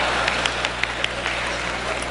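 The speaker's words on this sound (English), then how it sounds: "Then hold your applause, for heaven's sake." An audience at a debate between Christopher Hitchens and Tony Blair applauds, a dense, steady patter of many hands that stays fairly even in loudness throughout.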